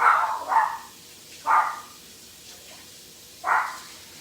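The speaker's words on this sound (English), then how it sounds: "I'm sorry for the dog barking." A dog barks four times in short, separated bursts indoors as a door opens, moderately close, with quiet background between barks.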